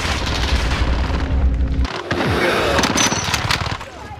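Gunfire in a Call of Duty Modern Warfare video game match, loud booming shots and rapid bursts rattling over several seconds, close and dense, with voices briefly heard.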